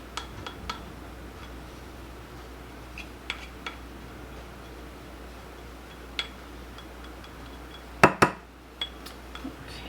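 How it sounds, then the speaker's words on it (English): Chicken wings are mixed with cornstarch in a bowl, producing scattered soft clinks and taps of a utensil against the bowl over a low steady hum, with a louder cluster of knocks near the end. "we are going to add in our cornstarch in here and get this all mixed together"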